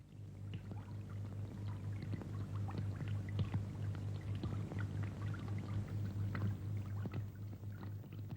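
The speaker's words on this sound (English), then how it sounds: "The crew now turn to deal with the water that is starting to leak through a number of valves into the command" Water streams and trickles steadily through leaking valves into the command area of a WWII German U-boat, a continuous rushing wash over a low hum of machinery with scattered drips and knocks.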